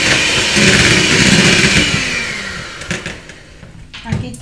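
A kitchen blender whirs loudly through orange cake batter with orange zest, a steady high whine that winds down into short pulses and a final brief burst, with a person talking over it.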